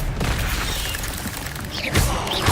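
Expelliarmus spell effect from the Hogwarts Legacy video game: a sustained, dense magical whoosh with booming low rumble and sharp swept tones near the end, loud and continuous for a couple of seconds without speech.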